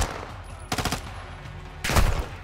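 Submachine gun fire in the video game Modern Warfare II, two short rapid bursts separated by a pause, over low background game ambience with no talk.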